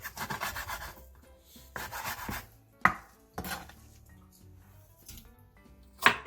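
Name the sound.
knife cutting taro stems into 3 cm pieces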